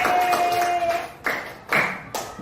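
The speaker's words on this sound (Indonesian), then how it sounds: "Tepuk tangan untuk kita semua." A class of schoolchildren clapping their hands together in a classroom, giving three sharp, separate claps after a brief held tone.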